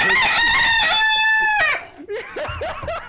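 A loud, drawn-out rooster crow, close up, followed by a few shorter clucking calls.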